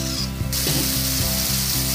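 Mixed vegetables with a little panch phoron sautéed in oil, a constant loud sizzle broken by regular mechanical clicking, likely a spatula or nearby device, with no voices.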